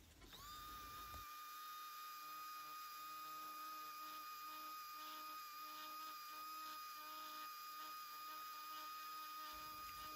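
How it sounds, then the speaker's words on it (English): A rotary tool fitted with a diamond burr bit carves a pine knot, a steady high-pitched whine starting abruptly and holding constant for about ten seconds, close and continuous with no talking. "I just switched over to a diamond burr bit"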